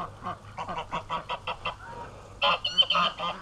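A goose honks in a rapid run of short, close, fairly loud calls, pauses briefly, then lets out a harsher, higher burst of honks, with no talk over it.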